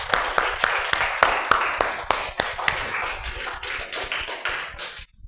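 A classroom of students claps hands together in a schoolroom, a burst of irregular sharp claps that fades out after about five seconds.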